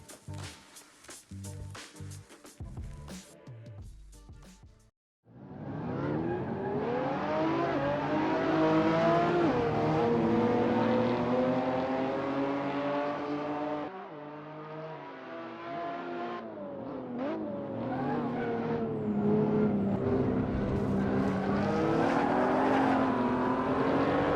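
A 2020 Toyota GR Supra in a VR racing game accelerating through laps, the engine revving up through gears with shifts and dips, a sustained loud drone after a brief opening of clicks and music.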